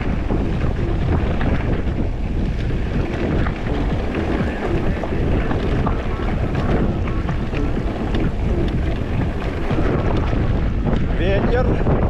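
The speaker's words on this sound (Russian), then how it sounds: "Ветер." Strong wind buffets the microphone nonstop on a seaside embankment in Crimea, a loud rumbling roar that stays steady throughout, with faint voices and water somewhere underneath.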